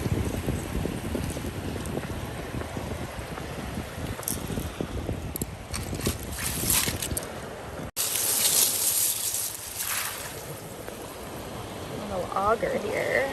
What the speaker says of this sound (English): comes the waves